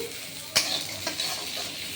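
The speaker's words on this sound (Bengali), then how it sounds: "গরম কড়াইয়ে নেড়ে নিলাম" Roasted chickpeas and ginger being stirred in a hot wok: a soft background sizzle with a sharp scrape at about half a second, then a few lighter scrapes. Close, short and without speech.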